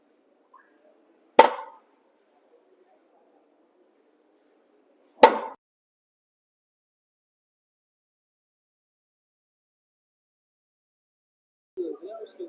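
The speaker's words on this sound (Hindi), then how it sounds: "इस पर हम हैमर की सहायता से चोट मारेंगे।" A hammer strikes a punch to mark a flat metal job, two sharp metallic taps several seconds apart in a quiet room, with a faint scrape near the end.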